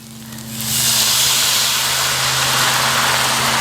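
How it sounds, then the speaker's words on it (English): White wine poured into a hot pan of browned veal for saltimbocca, erupting into a loud, close, sustained sizzling hiss of steam that holds steady as it deglazes. "we're going to add some white wine, and this is going to start lifting up those browned bits from the bottom"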